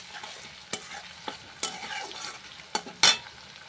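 Ginger, garlic and green chillies sizzle in a pan for a chilli paneer dish while a utensil stirs them, with several sharp scraping clinks against the pan over a steady low crackle, close and alone.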